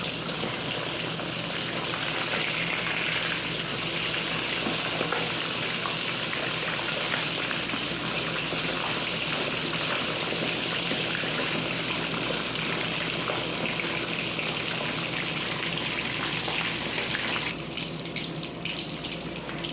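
Fish sizzling steadily in hot oil in a frying pan, a loud continuous hiss and crackle lasting the whole stretch before dropping off abruptly near the end.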